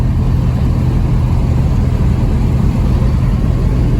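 A Plymouth with a slant six engine and a column-shift three-speed manual cruises at 55 mph on its first test drive, giving a steady, loud drone of engine and road noise with no talking.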